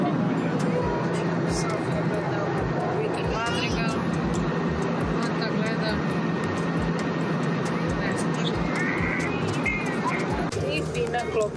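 Steady, loud airplane cabin engine drone fills the whole stretch, with a continuous hum and murmuring passenger voices and chatter underneath.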